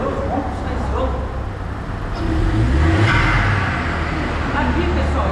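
A Volkswagen Virtus 1.0 TSI with a downpipe and a straight-through rear exhaust revs with a steady, moderately loud engine drone. The sound swells in the middle of the rev and then holds, heard close up.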